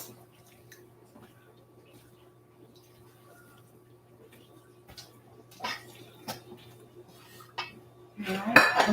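Kosher salt and pepper stirred into a casserole mixture in a bowl, with soft scraping and clinks of a utensil against the dish, quiet at first and growing louder toward the end, a steady hum underneath.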